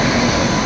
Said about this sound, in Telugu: సో గైస్ ట్రైన్ అయితే వచ్చింది చూడండి. మైసూర్ తాళగుప్ప ఎక్స్ప్రెస్